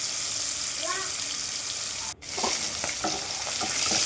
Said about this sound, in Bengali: তো এখানে আমি মাছ ভাজি করে নিচ্ছি